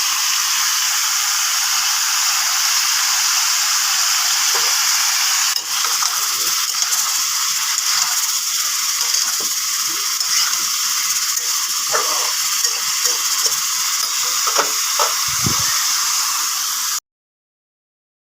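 Vegetable stems and potatoes with salt and turmeric sizzle continuously in a hot pan, a steady bright hiss broken by occasional soft clicks and knocks, then it stops abruptly.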